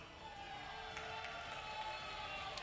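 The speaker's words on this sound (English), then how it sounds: "Let's hear it for Prada." Crowd cheering at a Granblue Fantasy Versus fighting game tournament top 8 event, a steady wash of shouts and applause from the audience with a few louder whoops, continuous throughout.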